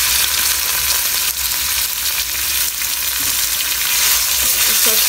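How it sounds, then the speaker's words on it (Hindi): Roughly 300 grams of boneless chicken fries with vegetables in a hot pan, making a loud, steady sizzle that hisses without a break, with occasional faint stirring. "इसको अच्छे से फ्राई करेंगे"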